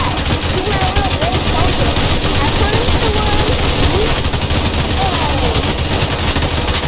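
A minigunner tower in the Roblox game Tower Defense Simulator fires nonstop, rapid machine-gun bursts forming a dense, loud rattle throughout, with a voice talking over it.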